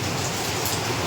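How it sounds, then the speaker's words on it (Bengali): Heavy rain falls steadily during a power cut at night, a dense even hiss that stays loud and close for the whole short stretch with no voices. "ভালোই জোরে বৃষ্টি নেমেছে গো।"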